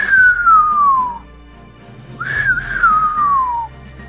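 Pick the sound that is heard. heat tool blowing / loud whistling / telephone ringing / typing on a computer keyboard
loud whistling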